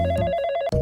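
A telephone rings on and on without being answered. A loud, steady electronic bell tone pulses in quick repeated bursts, close by, with no one talking.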